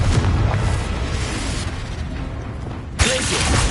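A Confringo spell explodes in Hogwarts Legacy, a loud rumbling boom that fills the whole stretch and then gives way to a sharp, brighter burst near the end.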